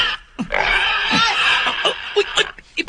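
A pig grunts and squeals loudly and close up in a nearly unbroken run of nasal, strained calls lasting a few seconds, with short breaks near the end.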